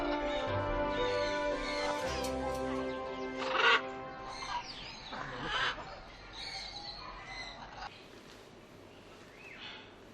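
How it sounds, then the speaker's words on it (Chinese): Macaws calling inside the bird house at Shanghai Zoo, a few harsh, loud squawks rising over a background of music and softer chatter. "而这喧嚣的一角，就是这里的明星——金刚鹦鹉。"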